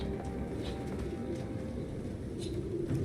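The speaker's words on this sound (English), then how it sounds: "Because I think that's a lot of birds." Pigeons coo softly in a video game, their low calls faint beneath a dense, steady wash of background noise.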